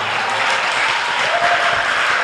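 Church congregation clapping as an offering of praise to the Lord, a loud continuous wash of applause from many hands throughout.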